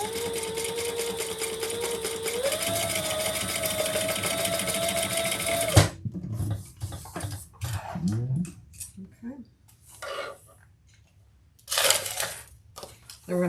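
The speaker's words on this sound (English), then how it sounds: "we're going to sew those together at the seam allowance in the pattern." A sewing machine stitches bag side pieces together at the seam with a fast, steady whirring run that rises slightly in pitch, then stops abruptly, followed by handling clatter and someone talking.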